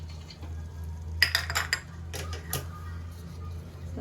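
A utensil scrapes and clinks against a metal pan while stirring carrot beetroot curry, a few quick strokes, then again after a pause, over a steady low hum.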